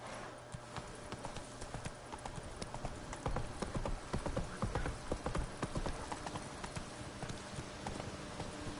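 A horse gallops in The Witcher 3 video game, its rapid, steady clip-clop hoofbeats continuous and fairly close, with faint game ambience underneath.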